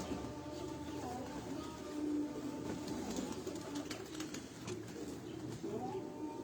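Pigeons coo softly in a loft during the winter season, a steady low murmur of overlapping calls that runs throughout, with faint background clatter.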